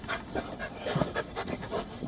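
A patrol dog on duty at Beijing's Forbidden City pants in a rapid, steady rhythm of breathy puffs, close and moderately loud, with no voices over it.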